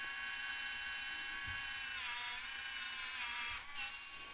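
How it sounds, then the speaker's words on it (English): A high-speed drill bores into a circuit board, giving a steady, loud, continuous high-pitched whine throughout with a brief shift in pitch near the end. "The drill is high-speed."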